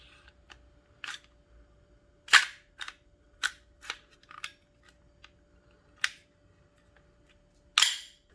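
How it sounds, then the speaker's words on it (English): Metal parts of a VFC SIG Sauer M17 airsoft pistol click and snap as the slide is fitted back on, a series of sharp close clicks spaced irregularly over near silence. "Now we're just going to go ahead and put the slide back on."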